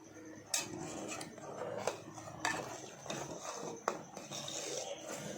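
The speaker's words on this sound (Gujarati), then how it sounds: "તેને સતત હલાયા કરવાનું જેથી કરીને નીચે ચોંટે નહીં" Clinking, scraping stirring of boiling milk in a cooking pot for homemade yellow-coloured ice cream on a low gas flame, with a few sharp utensil knocks against the pot over a steady simmering hiss, close and moderately quiet.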